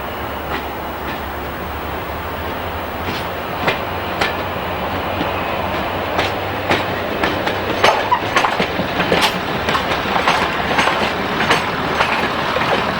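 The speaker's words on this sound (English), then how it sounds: "In South Yorkshire, a Class 108 set returned to green in 1991. Here it is at Sheffield." A British Rail Class 108 diesel multiple unit in green livery runs at Sheffield, its wheels beating a steady, irregular clickety-clack over rail joints above a low, continuous engine and rolling rumble.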